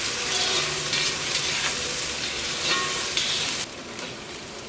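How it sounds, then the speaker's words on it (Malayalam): Onion, ginger, garlic and green chillies sauté in hot coconut oil for a crab roast, giving a steady, close sizzle that fills the whole stretch. The sizzle softens slightly near the end, with no voices present. "ഈ ചൂടായ വെളിച്ചെണ്ണയിലേക്ക് സവോളയും ഇഞ്ചിയും വെളുത്തുള്ളിയും പച്ചമുളകും ഇട്ടിട്ടൊന്ന് വഴറ്റിയെടുക്കാം."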